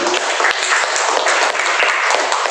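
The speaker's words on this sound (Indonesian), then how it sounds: "tepuk tangan paling gede." A church congregation breaks into loud, dense applause, many hands clapping together in a sustained, close burst with no voices over it.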